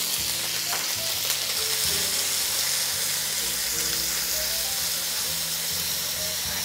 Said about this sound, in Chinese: 这少许的油放进去了以后呢，我们就把洋葱全部倒进来